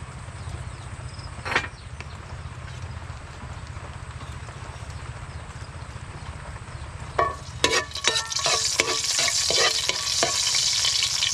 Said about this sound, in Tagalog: Atin pong gigisahin na. Mantika.